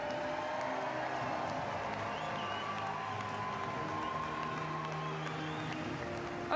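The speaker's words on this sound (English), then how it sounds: "merci encore d'applaudir Ben Cumberland." Steady audience applause with some cheering at a timbersports world championship award ceremony, a continuous dense wash of clapping filling the space throughout.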